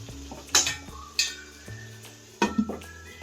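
A lid comes off a cooking pot of prawns and elephant foot yam curry, giving a few sharp metallic clanks and clinks against a quiet kitchen background with faint sizzling.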